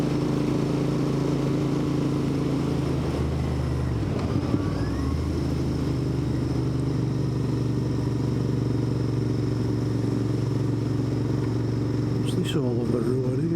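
A Royal Enfield Interceptor 650 motorcycle on a countryside ride: a steady engine drone rides beneath rushing wind, with a brief throttle change partway through and a rattling clatter near the end.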